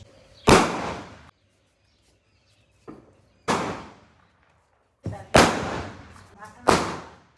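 Mirchi bomb firecrackers burst in four sharp, loud bangs spaced a second or more apart, each trailing off quickly into near silence, with a faint voice in between.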